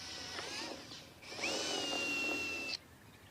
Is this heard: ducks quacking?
no